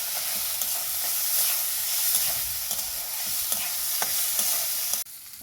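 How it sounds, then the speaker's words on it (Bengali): Lentils frying in hot oil with a steady bright sizzle, punctuated by scraping clicks of a spoon stirring the pan at a regular pace, close and alone, cut off near the end. "ডালটাকে ভালো করে নাড়াচাড়া করে কিছুক্ষণ ভেজে নেব।"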